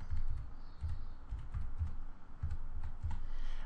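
Fingers typing a mobile number on a computer keyboard, soft close-up clusters of key taps in short irregular bursts with brief pauses, no voices.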